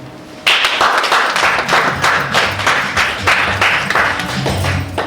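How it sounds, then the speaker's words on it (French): Applause at a meeting of a foresters' association in Benin, starting abruptly and continuing as steady, moderately loud clapping from a room of attendees without speech. "Je vous prie de l'applaudir."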